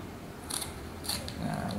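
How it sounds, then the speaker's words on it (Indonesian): Scissors snipping Fixomull transparent dressing tape: two quick crisp cuts close up, with faint background hiss and no talk over them. "Nah, gunting sesuai kebutuhan ya."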